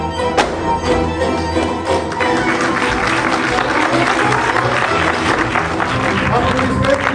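Audience applause fills a hall at an international comedy and satirical theatre festival, a steady dense clapping wash that holds throughout, with a voice speaking over it.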